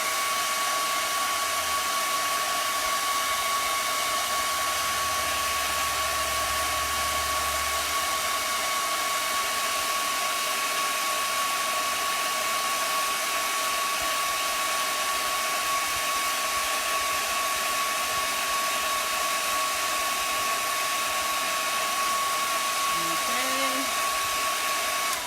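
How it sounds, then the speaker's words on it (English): A hair dryer blows steadily and loudly throughout, a constant whooshing hum with a high whine, running without pause. "So I'm going to try my dryer and dry it."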